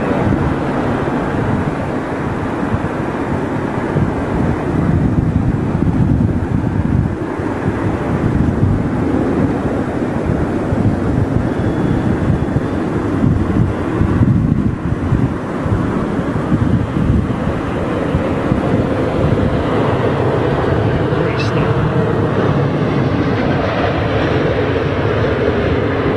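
An Emirates Airbus A380 lands at Heathrow with a loud, sustained broadband roar that rumbles steadily for the whole stretch, mixed with wind buffeting the microphone.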